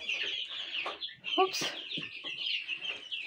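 Broiler chicks cluck and peep close by in a busy, overlapping chorus of short calls, with a brief remark from a person partway through.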